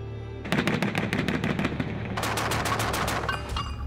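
Armoured vehicle's 25 mm cannon firing in loud, rapid bursts: a rattling volley of sharp reports, a brief break, then a second sustained string of shots echoing close and hard, with no voices.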